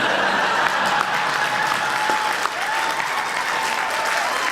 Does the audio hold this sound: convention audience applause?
yes